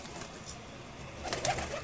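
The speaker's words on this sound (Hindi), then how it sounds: "तो ये कबूतरी है।" A soft coo from a white female pigeon rises in the last half-second over quiet room noise, close and gentle, with no talking.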